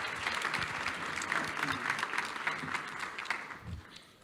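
Steady, dense applause from a conference audience after a talk, sustained throughout and tapering slightly at the end.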